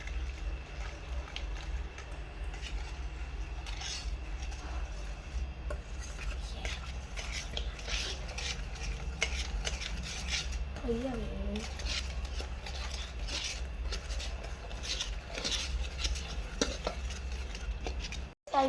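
Milk being stirred into Oreo biscuit cake batter in a bowl, with steady clinking and scraping of the utensil throughout while a person talks over it.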